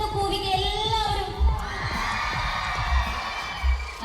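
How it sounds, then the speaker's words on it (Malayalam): Festival crowd at Vythiri Fest hooting and shouting together on cue, a loose mass of voices with a few louder bursts and low thumps, steady and fairly near throughout. "ഒന്ന് എല്ലാവരും ഒന്ന് കൂവിക്ക്."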